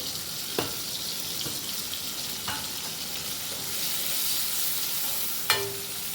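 Continuous sizzling from a frying pan as chilli paneer cooks with spices and a little water, with occasional utensil taps and clinks; the hiss swells slightly in the middle.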